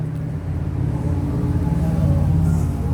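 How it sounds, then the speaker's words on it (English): Steady low rumble of traffic from a busy street, a continuous drone of passing vehicles heard from outdoors at a distance, with no talk. "sorry for the noise, I live on a busy street."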